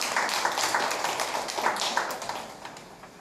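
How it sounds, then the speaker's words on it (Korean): An audience at a community presentation on a toad ecology village claps in welcome for a speaker, a steady crowd-wide patter that stays even, then gently tapers off. "네, 박수 환영해 주시기 바랍니다."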